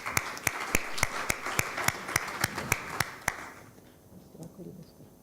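An audience at a conference plenary claps to welcome a panelist, with sharp regular claps prominent over a thick patter for about three seconds before it dies away into quiet room noise and faint voices.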